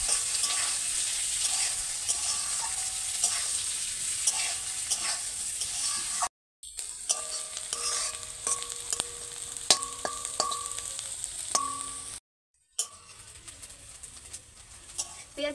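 Chopped onions fry in oil for an echor chingri dish, a steady broadband sizzle running throughout with scattered stirring clinks and two brief dropouts; faint bird coos and soft background voices sit beneath.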